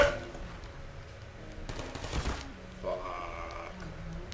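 Rapid automatic turret gunfire in the Portal video game, a dense burst of fast repeated shots over about a second near the middle, set against a steady hum of game sound and musical tones.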